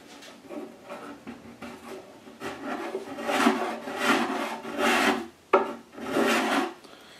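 A hand tool such as a rasp or plane takes small, precise wood shavings on a chest of drawers, making repeated rasping strokes that build in loudness with brief pauses between them, close up.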